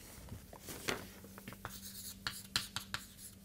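Chalk or marker writing on a board during an engineering lecture on hoop stresses, with short scratchy strokes and taps in an uneven rhythm. The strokes are fairly close and quiet, and no one speaks over them.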